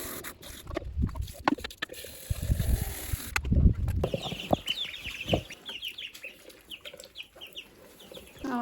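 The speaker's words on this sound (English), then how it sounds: "now it's just the dwarf chickens" Dwarf chickens cluck softly inside a coop, scattered close calls with rustling and a few wing flaps, fairly quiet overall.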